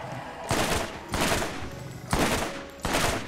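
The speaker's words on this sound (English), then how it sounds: "Wow, this assault rifle's pretty accurate." Assault rifle in Borderlands firing in four loud bursts of rapid shots, each lasting about half a second with short pauses between, close and dominant.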